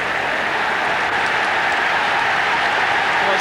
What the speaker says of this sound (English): The Celtic fans there applauding that move